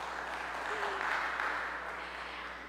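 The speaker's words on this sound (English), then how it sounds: "Yes, sure, we can clap for that." Congregation applause at a traditional church worship service, a steady, fairly soft wash of clapping that holds for about three seconds and tapers slightly at the end.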